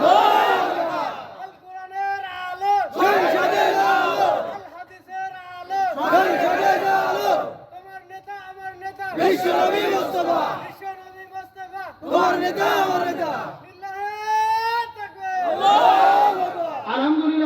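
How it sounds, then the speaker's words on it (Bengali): A large crowd at a religious gathering in Keshabpur, Jashore, shouts takbir in unison, answering a leader's call in six loud, repeated call-and-response bursts with short pauses between. "একজন তাকবীর দেন তো দেখি, কে পারেন ভালো করে একজন তাকবীর দেন"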